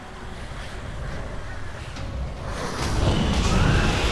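Waterfall in the video game The Secret World: a steady rushing wash of water noise that swells louder toward the end, with no speech over it.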